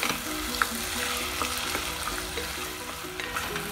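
Tomatoes sautéing with ginger garlic paste in a pan for chicken curry make a continuous sizzle, with faint stirring scrapes and small crackles throughout.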